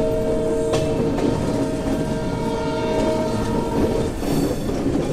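A Sairang to Kolkata express crosses the North East hills of Mizoram on the Sairang–Bairabi line, giving a loud, steady close rumble with continuous wheel clatter and thin metallic squealing tones throughout.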